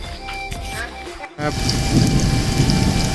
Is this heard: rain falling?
yes